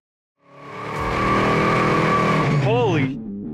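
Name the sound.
high-horsepower car driving and handling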